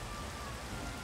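Steady rain falls in the video game Minecraft, a dense even hiss of drops with no pauses, loud and alone.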